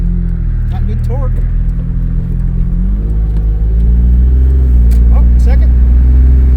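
1995 Dodge Stealth, revived after years of sitting, pulling hard under acceleration, its engine note rising in pitch through the gears with a close, loud rumble while someone speaks briefly.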